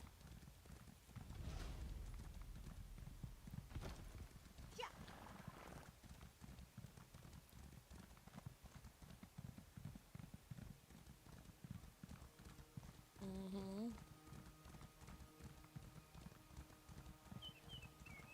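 Horse hooves clip-clop steadily as a rider travels in an Elder Scrolls game, a continuous trotting rhythm mixed with game ambience and a brief musical chime, mid-level and fairly close.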